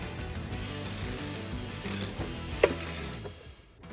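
A Martin 60 outboard motor is turned over by hand during repair, making close mechanical clicking and ratcheting with a rhythmic grinding rub. A single sharper knock marks a stuck valve freeing, and no one speaks.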